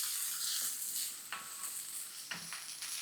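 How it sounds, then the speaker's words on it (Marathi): Chopped onion and okra stir-fried in a pan give a continuous frying sizzle broken by a few scraping stir strokes, close and moderate in level, with no voices. "ह्याला आपण छान लालसर होईस्तोवर परतून घेऊ."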